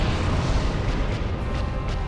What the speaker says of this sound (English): There comes the explosion.